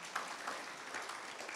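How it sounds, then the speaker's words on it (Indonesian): Faint, brief clapping from a church congregation at a Christmas service, a soft continuous patter heard from a distance. "Berikan tepuk tangan buat Tuhan."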